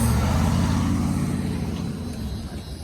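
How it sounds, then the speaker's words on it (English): A car goes past on a road close by, a loud low rumble of tyres and engine that fades steadily as it moves away, with no one talking. "Let this car pass."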